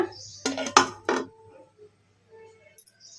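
Ceramic plate set down over a bowl of black-eyed pea dal left to soak, giving a few close clinks and knocks in quick succession, then quiet.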